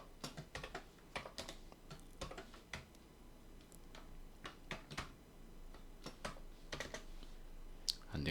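Rapid, irregular keystrokes on a computer keyboard while entering Python code, close and crisp, with bursts of clicks and short pauses and no talking.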